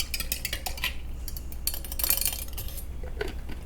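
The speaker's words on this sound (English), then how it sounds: "I have a metal ruler here. I'll use this to stir." A metal ruler stirs a small container of homemade extra-thin plastic cement, producing faint, irregular metallic taps and scrapes against the container over a low background hum.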